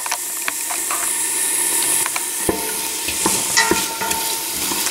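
Vegetables sauté in a pot for minestrone soup, a steady sizzling hiss with occasional spoon stirs and light clinks against the pot, close and continuous.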